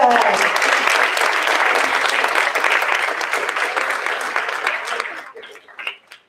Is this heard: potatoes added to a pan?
no